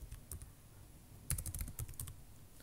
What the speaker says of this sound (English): So if I type in pseudo Mercator here